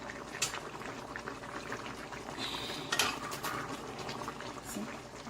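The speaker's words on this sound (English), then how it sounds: "my fish is steaming down" Jamaican style fish steaming in a pot with peppers, a constant bubbling simmer with occasional clinks of a utensil against the pot and a brief sharp scrape.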